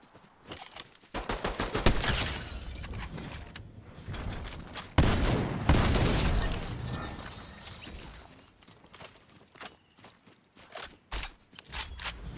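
Fortnite gunfire in a trios match, a dense spread of loud shots and volleys that build, ease off and return in scattered bursts, with little talking.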